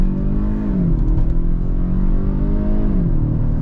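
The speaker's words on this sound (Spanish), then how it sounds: "Vamos a acelerarlo a fondo" A 2022 Kia Stinger GT-Line in sport mode under full throttle, its engine droning steadily and rising in pitch as it pulls hard, heard from inside the cabin with a constant low rumble.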